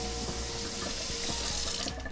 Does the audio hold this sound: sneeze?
no